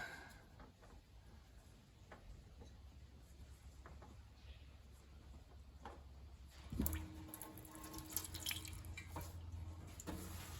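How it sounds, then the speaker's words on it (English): Engine oil drips and trickles from the oil filter housing of a petrol Hyundai ix35, a faint, steady patter that continues throughout, with a slightly louder spell of dripping near the end. "So I've just left the oil filter housing to drain."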